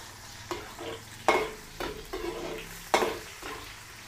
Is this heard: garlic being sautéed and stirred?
yes